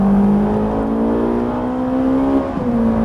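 A Ferrari 458 Italia V8 accelerating at full throttle on a racing circuit, its engine note climbing steadily in pitch, then dropping briefly at a gear change before rising again, loud and close throughout.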